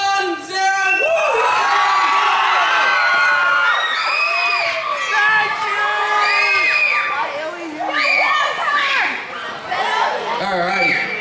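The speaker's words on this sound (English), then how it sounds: "every time I hear the girls screaming" A large crowd of children, mostly girls, cheers, whoops and screams loudly and continuously at an event, with shrill overlapping shouts rising and falling close by.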